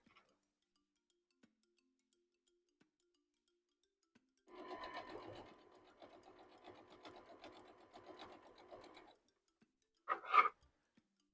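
A sewing machine stitches quilt leaf pieces in a steady, close whirring run of about four and a half seconds in an otherwise quiet room. A short sharp burst follows near the end.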